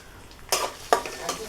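Ingredients lightly frying in oil in a home kitchen, with a low sizzle broken by three sharp stirring scrapes and clatters against the pan, close by with no talking.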